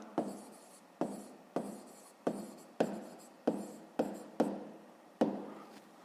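Pen writing down a math answer on paper, a series of about eight distinct scratchy strokes at a steady pace, close and quiet with no voices.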